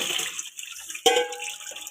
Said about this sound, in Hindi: थोड़ा सा ठंडा पानी इसके ऊपर डालना